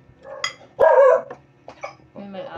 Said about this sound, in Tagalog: May aso pa dito.